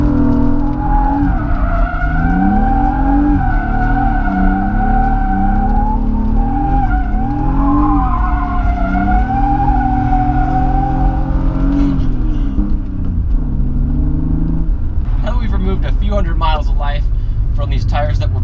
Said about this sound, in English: I'm gonna try a few drifts to see how it handles doing that